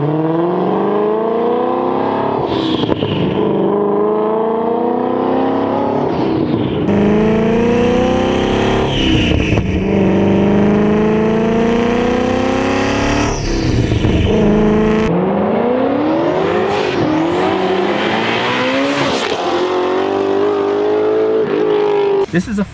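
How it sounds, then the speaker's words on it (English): Fathouse Fabrications GT350 1000R, a modified Ford Shelby GT350 on an E85 tune making 950 wheel horsepower, revs hard through repeated rising pulls, loud and close, with sharp throttle blips between climbs and no talking over it. "This is a Fathouse Fabrications GT350 1000R. With E85 tune, this is putting out 950 wheel horsepower"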